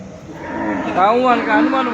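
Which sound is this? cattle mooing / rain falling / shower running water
cattle mooing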